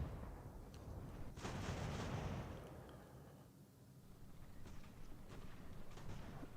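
Artillery canister fire in the strategy game Ultimate General: American Revolution, heavy booming blasts with a rolling roar, then scattered distant cracks of gunfire across the battlefield, no voices.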